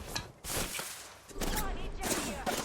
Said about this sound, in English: Right now, I hear a few flatline shots from Evolution Black out here.